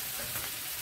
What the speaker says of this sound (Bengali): ক্যাপসিকামটা আমাকে একটু ভেজে নিতে হবে যাতে কাঁচা গন্ধটা চলে যায়